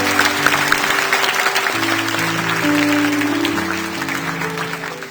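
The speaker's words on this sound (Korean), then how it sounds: "큰 박수로 축복합니다." A church congregation clapping steadily during a Sunday service, loud and sustained, with music or a held tone underneath.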